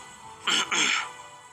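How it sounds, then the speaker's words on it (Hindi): A close, fairly loud throat clearing in two quick rasping bursts, followed by quiet. "शैनन को देखकर उसे दोबारा अपना गला साफ करके कहा"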